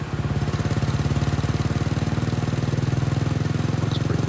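A KTM 450 EXC dirt bike roars at full throttle on a dyno with a stock ECU, a steady, loud, rapid single-cylinder pulse held for several seconds with no talking.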